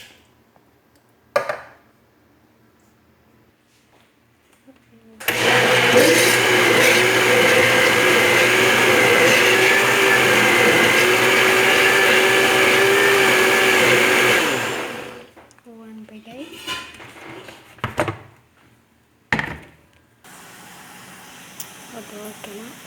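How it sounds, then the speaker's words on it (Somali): A kitchen blender grinds tomatoes in one loud, steady roar of about ten seconds. Before it there are brief clatters and faint speech, and after it stops there are a few more knocks and handling noises. "hadda yaanyada shiidaa rabaa"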